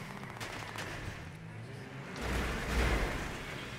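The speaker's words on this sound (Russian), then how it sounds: "Они стреляют." Video-game gunfire, rapid bursts of shots at moderate distance under a muffled rumble, which swells into a louder, denser volley near the end.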